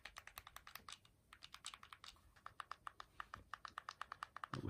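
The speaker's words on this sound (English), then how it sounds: "that we're clicking the buttons" Plastic buttons on an RGB10 handheld console fitted with a PS Vita analog stick are pressed in quick, sharp clicks, dozens of close, crisp taps in uneven bursts, alone and quiet.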